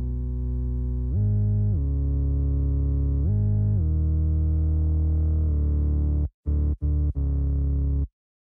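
A mono synth bass patch, deep sub sine with a touch of square wave, softened attack and added distortion, plays a short sliding bass line of held notes ending in quick stabs, loud and alone.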